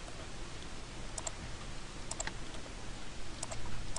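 A computer mouse gives light, sparse clicks during modeling work in CAD software. The clicks sit close but quiet over a steady background hiss, in pairs and small clusters, with no talking.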